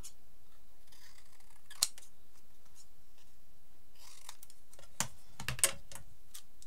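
Scissors cut through a paper card in a few separate close snips spread across an otherwise quiet stretch.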